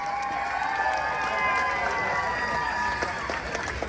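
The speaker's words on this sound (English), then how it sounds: "Let's give him another round of applause" Applause and cheering from a festival crowd at Hungarofest, steady clapping with raised voices and shouts blended over a constant crowd roar.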